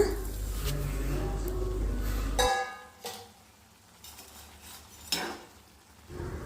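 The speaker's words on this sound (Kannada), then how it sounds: "ಶಾವಿಗೆ ಎಲ್ಲ ಹಾಕ್ಕೊಂಡು ಮಿಕ್ಸ್ ಮಾಡ್ಕೊಳ್ಳಿ" Vermicelli (shavige) being stirred into boiling water with vegetables, a loud bubbling boil that cuts off abruptly, followed by a few scattered clinks and scrapes of a utensil against the pot, with a voice heard at times.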